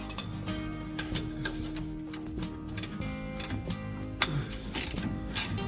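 Rear shocks being removed from a Mahindra jeep with a ratchet, rapid clicking pawl strokes and metallic clanks in irregular bursts, close up with no talking.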